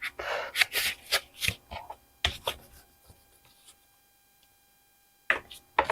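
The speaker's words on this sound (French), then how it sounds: "on fait le pli" Cardstock paper for a Venice-themed Stamperia album being handled and folded, with a series of crisp, close papery rustles and creases, then a quiet pause before a final brief rustle.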